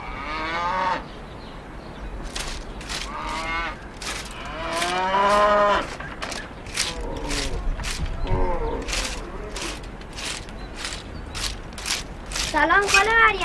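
Cattle moo repeatedly in long, deep, loud calls, close by on a farm, with a regular clicking or mechanical knocking running underneath.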